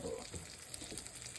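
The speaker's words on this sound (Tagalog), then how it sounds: "Igigisa natin yung karne muna mga kababayan ko" Meat sautéing in a pan for Ilocano-style arroz caldo, a steady close sizzle and crackle with faint stirring, no talk.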